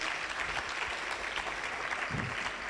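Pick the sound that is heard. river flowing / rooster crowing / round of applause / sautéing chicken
round of applause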